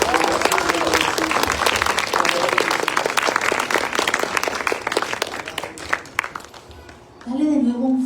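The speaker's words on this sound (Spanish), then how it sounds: "Dale un aplauso al que vive y reina." A church congregation claps loudly in a dense, sustained burst that gradually thins toward the end, followed by a voice speaking briefly.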